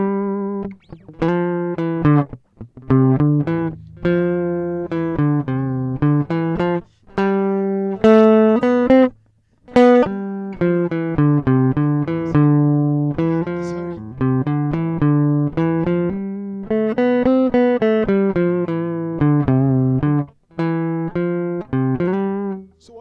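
A sustained, singing melody on an electric guitar wanders up and down in connected phrases, with brief pauses, played alone and close.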